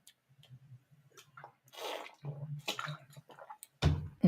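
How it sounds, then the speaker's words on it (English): Quiet, close swallows and small gulps from drinking water, soft intermittent sips with wet mouth sounds, ending in a louder clunk as the cup is set down. "Let me just get a drink of water."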